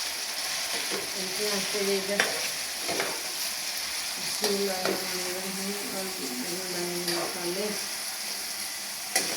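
Onions sizzle steadily in hot oil for a tadka for moong and masoor dal, a constant crackling hiss close by, while a voice speaks intermittently over the frying.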